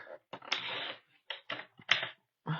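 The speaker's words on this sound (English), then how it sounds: "I'm going to go at 1 inch and cut that strip off" Patterned paper being cut into a strip, a run of short crisp snipping and clicking bursts separated by brief pauses, close and dry.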